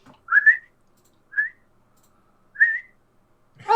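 Three separate rising whistles, each short and bright, sound as a person whistles to call a dog named Alfie, with brief quiet gaps between them and a voice starting just at the end.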